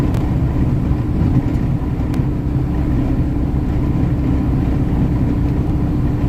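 Transfer truck engine running steadily with a loud, low, continuous rumble from close by, the truck losing power, with no talking over it.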